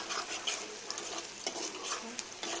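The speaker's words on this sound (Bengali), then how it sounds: "একটু শুকনা মরিচ দিয়ে দিলাম।" Dried red chilies and garlic fry in hot oil with a steady crackling sizzle. Brief clinks of a utensil stirring break through it, close and fairly quiet, with no voices.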